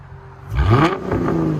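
A Mustang 4.0 engine with straight-pipe exhaust revs up sharply with a deep, throaty exhaust roar, peaking briefly before settling into a loud idle rumble.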